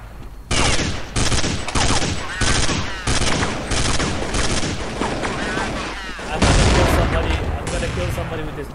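Minigun fire in an old Counter-Strike game, loud sustained bursts of rapid gunfire that start and stop several times, with a longer heavy burst near the end.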